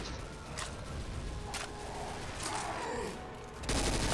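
Gunfire in the video game Left 4 Dead 2 keeps up as a continuous background clatter, with a few sharper shots standing out and a louder burst near the end.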